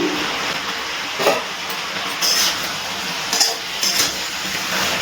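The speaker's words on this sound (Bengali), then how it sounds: "এবারে ঢাকনাটা তুলে নিচ্ছি" A metal lid is lifted off a pan of vegetables frying over a low-to-medium flame, giving several light metallic clinks and scrapes over a steady, close sizzle. There is no speech.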